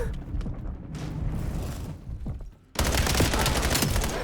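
Gunfire in the Call of Duty Black Ops 7 video game: dense, continuous bursts of shots, loud and close, with a brief lull before a heavy sustained volley resumes.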